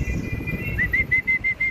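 A blue bar racing pigeon arriving at its loft during a 70 km race in Pulilan, Bulacan, with a repeated series of short whistling tones from wings or a whistle in quick rhythm over a low, busy rumble.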